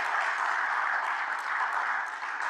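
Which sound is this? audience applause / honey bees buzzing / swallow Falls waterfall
audience applause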